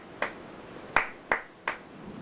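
Sharp hand claps ring out one at a time, four crisp separate strikes with short gaps between them in a quiet room.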